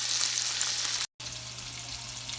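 Bracciole tied with butcher's twine browning in a hot pan, a steady close frying sizzle that drops out briefly and resumes at the same level.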